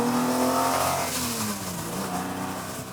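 An Italian car's engine drones loud and close in third gear at around 2500 rpm as it gently gathers speed. Its sustained humming pitch glides slightly over a few seconds, with road noise beneath.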